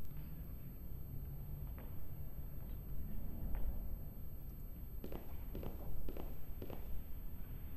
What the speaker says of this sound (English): Bro, her footsteps are loud.